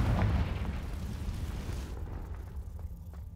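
A single Confringo blasting-spell explosion in the Hogwarts Legacy video game, a loud low boom at the start that rumbles and fades away over a few seconds.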